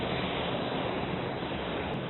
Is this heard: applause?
no